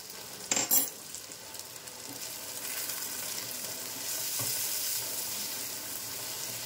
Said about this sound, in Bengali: খুব ভালোভাবে নাড়াচাড়া করে আমি হলুদটার সাথে মিক্স করে নিচ্ছি লাউগুলো